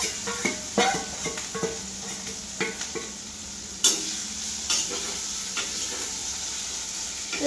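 Cumin and other spices sizzling in hot oil, with hing added, in a home kitchen: a steady frying hiss broken by sharp clicks and taps of a utensil stirring against the pan, close and clear, with no talking.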